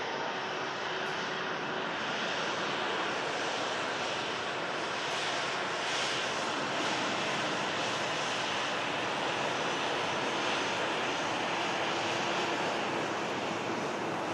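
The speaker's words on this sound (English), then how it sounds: "There goes the Turkish Airlines A321neo heading back to Istanbul." A Turkish Airlines Airbus A321neo departs on its way to Istanbul, a steady jet roar filling the clip throughout with a broadband rumble and hiss, as if wind or surf were blended in, and no voices.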